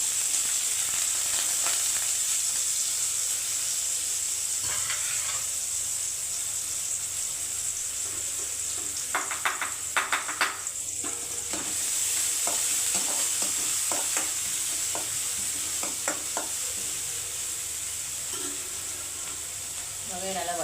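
Onions frying in oil in a home kitchen pan as pasta is prepared, a steady close sizzle running throughout with scraping and clinking stir strokes of a spoon bunching together in the middle stretch.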